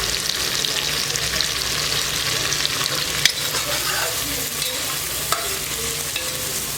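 Chopped onions roast in a pan for keema kaleji, a loud, steady, broadband sizzle throughout with a few faint stirring knocks, close and without speech.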